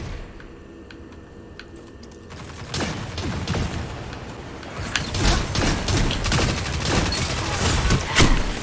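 Gunfire in Destiny 2 Crucible Mayhem play: quiet clicks at first, then sustained loud volleys of shots and impacts filling the rest.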